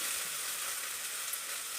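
Chopped onions frying in a pan for a puffed-rice chitrannam, a steady, close hiss of sizzling oil with no voices.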